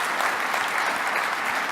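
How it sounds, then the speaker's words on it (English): Conference audience at a government travel event breaks into a short burst of dense, continuous applause from many people. "How about a round of applause,"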